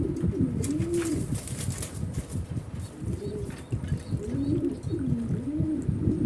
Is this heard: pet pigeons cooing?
yes